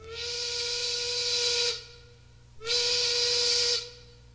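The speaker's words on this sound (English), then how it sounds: "1850, Oregon Steam Navigation Company launches its first stern wheeler." A stern wheeler steamboat on the Columbia River sounds its steam whistle in two long, loud, hissing blasts separated by a short pause, each a steady tone over a breathy rush.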